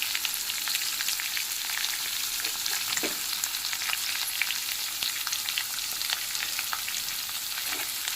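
Onion, green chili and peanuts fry in a hot pan, giving a steady, close sizzle with occasional stirring scrapes throughout, with no talking.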